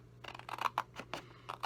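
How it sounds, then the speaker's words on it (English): Snips cut paper along a score line in a quiet room, making a series of short crisp snipping crunches in an uneven rhythm, close and soft. "I'm just going to take my snips and cut right up the score line."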